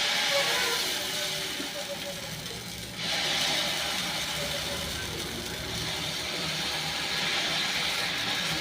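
Keerai dosa batter made with mudakathan greens and rice flour hits a hot pan, giving a steady broadband sizzle that hisses on evenly, with a brief dip and then a fresh surge partway through.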